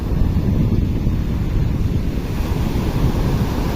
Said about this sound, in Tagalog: Pero malakas ang hangin mga kasilong.